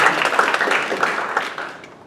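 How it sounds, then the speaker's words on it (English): Brief burst of audience applause at an event for creatives, a crowd clapping fairly loudly before quickly fading out. "Now you can applaud, please."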